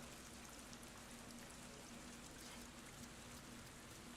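Faint, steady rainfall in the Avatar video game, a soft continuous patter of drops with a low hum underneath and no one speaking.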